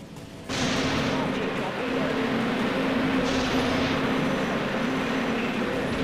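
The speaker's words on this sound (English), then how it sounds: "Activating primary weapons" Primary weapons of a spaceship in the Dreadnought space combat game fire in a heavy, continuous barrage of broadband roaring blasts with a sustained low drone, loud and unbroken for several seconds.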